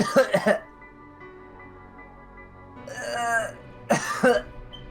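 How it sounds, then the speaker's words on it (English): Several rough coughs and throat-clearing bursts come in clusters near the start and end, with a strained wheeze between them. "I have to cough, but it's not coming up."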